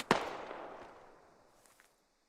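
A single gunshot in the military shooter game Squad: one sharp crack at the start that trails off in a long, fading echo. It sounds distant and fairly faint, and a faint tap follows near the end.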